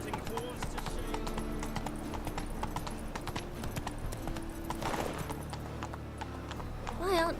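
Steady clip-clop hoofbeats of the horse Roach galloping in The Witcher 3, rhythmic and continuous under a voice, ending with a short neigh.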